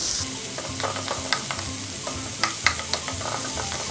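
Meat stir-frying in a pot for Korean rice cake dumpling soup, its fat rendered out, gives a steady close sizzle with light scraping and stirring clicks from a utensil, no talk over it.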